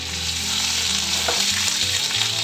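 Ground green chili and ginger paste fries over low heat in a pan with panch phoron and a pinch of asafoetida, a steady loud sizzle broken by the scrape and knock of stirring, with no one talking.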